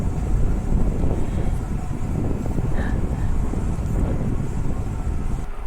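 Steady wind buffets the microphone on an open hilltop beside wind turbines at Khao Yai Thiang, a continuous loud low rumble with no voices.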